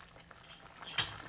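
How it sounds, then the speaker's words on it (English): Vietnamese braised pork riblets get a brief stir in a simmering pot, heard as soft scraping and a single clink of a utensil against the pot, close and quiet. "This is the second stir."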